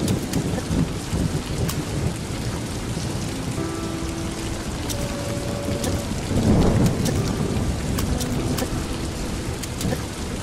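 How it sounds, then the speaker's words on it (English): Heavy rain splashing on the ground with rumbling thunder in the video game Toby: The Secret Mine, a dense loud downpour that swells with a deeper roll midway, and no talking. "You can actually see the rain splash off of the ground."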